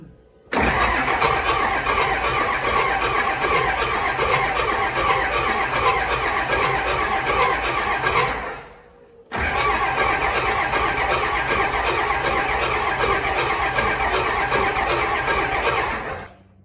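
A 24-valve Cummins diesel, newly swapped to a P-pump, cranks loudly in two long, steady runs of about eight seconds each with a brief gap between, with a whining squeal running through the churning.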